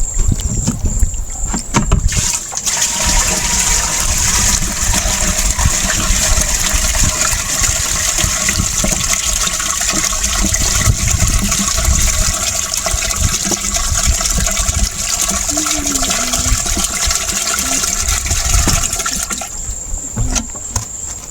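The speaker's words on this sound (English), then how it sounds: "I'm going to reduce the water so that it can be carried." Water gushes steadily out of a jerry can holding catfish fingerlings, a loud, continuous close splashing pour that runs for about twenty seconds before easing off.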